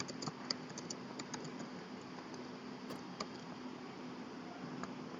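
Typing on a computer keyboard while entering text into a program, heard as faint, scattered key clicks over a steady low room hum, with no talking.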